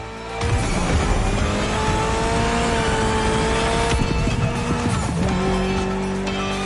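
A Mitsubishi car with an inline four-cylinder engine making about 280 horsepower, driven in The Crew Motorfest, runs loud and steady with a sustained engine drone and continuous tire squeal, the pitch shifting a couple of times as it slides.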